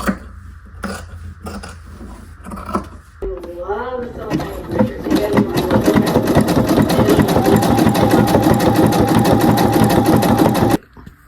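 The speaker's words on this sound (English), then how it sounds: "then we'll go to the sewing machine" A few sharp clicks and a short whirring start, then a sewing machine runs fast and steady in a loud rhythmic stitching buzz before stopping abruptly.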